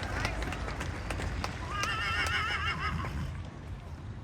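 Draft horses at a draft horse show whinny with a wavering neigh and hooves clip-clop faintly, heard over a busy crowd and an announcer's talk.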